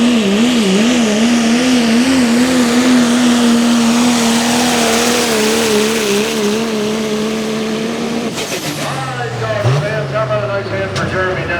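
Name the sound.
pulling truck engine roaring at truck and tractor pull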